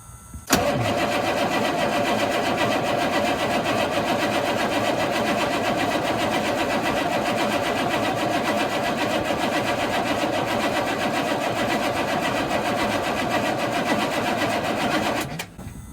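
A 1983 Chevrolet Squarebody with a 6.2 diesel engine fires up for the first time in years after a short crank, then runs loud and steady at a close, even clatter for about fifteen seconds before cutting off.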